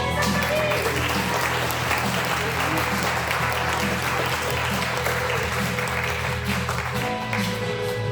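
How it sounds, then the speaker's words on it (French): An audience applauds a couple, Michel and Monique, as they are welcomed in, a dense continuous patter of clapping with a low music-like hum underneath and some voices mixed in. "On les applaudit"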